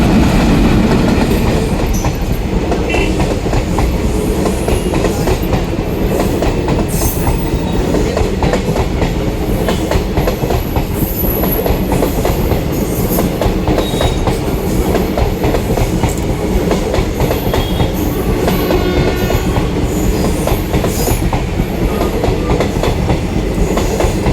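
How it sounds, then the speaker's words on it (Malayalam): A train rumbles steadily past close by at a railway level crossing, wheels clattering over the rails in a continuous loud roar with occasional faint metallic squeals. "ട്രെയിൻ പോയി കഴിഞ്ഞ് ഗേറ്റ് ഓപ്പൺ ആയതിന് ശേഷമാണ്"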